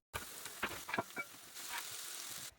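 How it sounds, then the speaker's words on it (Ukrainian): Sliced bell pepper hits a hot, oiled frying pan with a sudden sizzle, a few stirring scrapes, and then a steady crackle that holds to the end. "відправляємо смажити на розпечену та змачену олійкою пательню"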